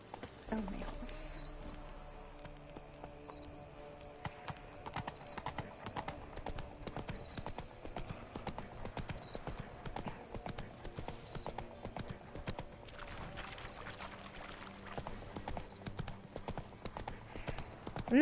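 Horse hooves clip-clopping in The Witcher 3 Wild Hunt, a steady rhythmic trot of sharp hoof strikes with occasional snorts or whinnies over soft game ambience, while a player talks intermittently.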